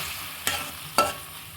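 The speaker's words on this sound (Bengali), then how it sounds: "মশলা আমার দেওয়া হয়ে গেল, এখন আমি মশলাটাকে কষিয়ে নেব।" Ground spices, ginger paste, chilli powder, coriander powder, turmeric and salt being fried and stirred in a pan, with two sharp scraping stirs over a faint, steady sizzle and no talking.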